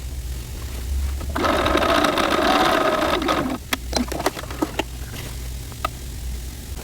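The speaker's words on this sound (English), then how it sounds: "then you'll stitch the bottom part of your dress up to that notch and backstitch there" A sewing machine stitching a dress seam, a steady fast whirring run of about two seconds, followed by several short, spaced clicks and taps as the machine stops and the fabric is adjusted.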